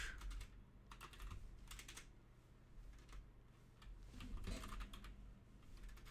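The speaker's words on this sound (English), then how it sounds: "I'm having trouble typing today." Someone typing on a computer keyboard: bursts of quick, faint key clicks in uneven clusters with short pauses between, close and quiet against a low background hum.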